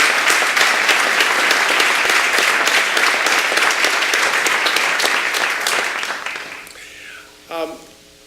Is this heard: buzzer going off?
no